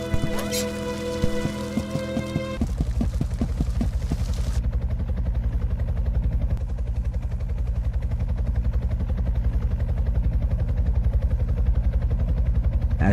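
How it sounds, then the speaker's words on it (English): A helicopter from the video game Horace passes overhead, a rapid rhythmic rotor chop that dominates for over ten seconds, loud and steady after a brief burst of music at the start. "As we sat waiting for the helicopter to pass, we continued chatting."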